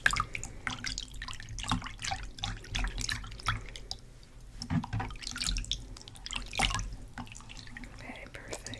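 Water runs and splashes as scrub is rinsed off hands, with soft irregular drips and trickles close to the microphone at a quiet level.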